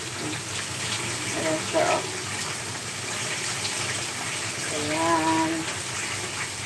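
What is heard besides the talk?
tap water running while washing fish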